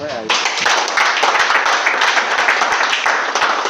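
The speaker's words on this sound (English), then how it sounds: "And I wish you clap for yourself." Members newly inaugurated into Enugu State leadership fill a hall with loud, continuous applause, clapping for themselves with steady, overlapping claps that never pause.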